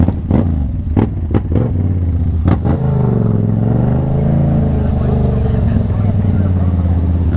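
A Yamaha MT-07 motorcycle engine runs loudly and steadily while riding, with a few sharp clacks early on before settling into a continuous droning hum.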